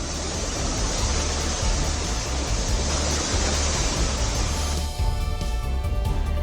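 The flooded Tamsa river in Dehradun rushes past near the Tapkeshwar Mahadev temple, a loud, continuous roar of churning water filling the whole clip without a break.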